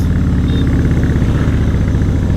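Harley-Davidson Fat Boy motorcycle engine revving, a loud, close, steady low rumble with rapid throbbing pulses throughout and no voices.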